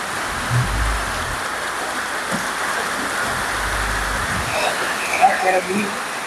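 Steady rain hisses throughout, close and constant, with a few low bumps and faint indistinct sounds underneath.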